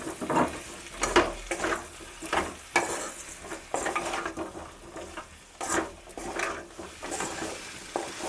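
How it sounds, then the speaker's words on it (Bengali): Potatoes being fried with spices, salt and a spoon of sugar for aloo dum, a spoon scraping and stirring in quick repeated strokes over a continuous sizzle, close and fairly loud, with no talk. "দিয়ে এবার ভালো করে কষবেন আলুটার সাথে"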